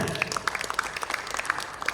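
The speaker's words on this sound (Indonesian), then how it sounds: "Tepuk tangan dong buat Dokter Ina." A small crowd at a health education expo in Riau claps, a brisk patter of hands that stays steady for a couple of seconds with no talking.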